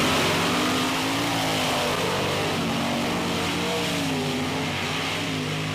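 Drag race cars running side by side on beach sand in New Jersey, a loud continuous engine roar close by with a shifting pitch and no pauses.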